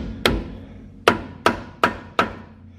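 Rubber mallet hammering on a stuck brake rotor of a 2018 Ram truck that is dragging on the brakes: five sharp, loud knocks with short ringing decays, the first alone and the rest coming about every half second.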